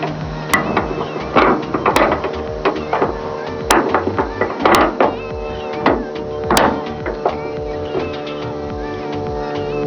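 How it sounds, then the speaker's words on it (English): A ratchet clicks as hood strut bracket bolts are tightened on a Nissan Xterra during a high-lift hood strut install, with repeated short bursts of ratcheting and sharp metallic taps, close and fairly loud, throughout. "I'm just gonna tighten it all up."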